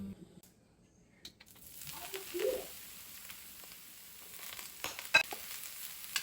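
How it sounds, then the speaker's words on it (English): Eggplant sautéing in oil in a skillet, a faint crackling sizzle that builds after a quiet start, with scattered small pops and clicks from the pan. "We're going to saute our eggplant."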